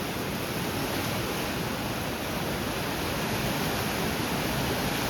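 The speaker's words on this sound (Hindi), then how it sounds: "वहाँ से कितना उफान में आ रहा है पानी" The Alaknanda river rushes and surges at Devprayag, a dense, loud, continuous roar of turbulent water that holds steady without a break.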